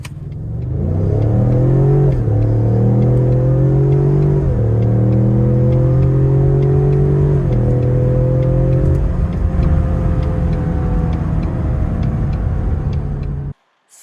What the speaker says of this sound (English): we'll go ahead and get started with our 0 to 60 test on our 2020 Mustang Ecoboost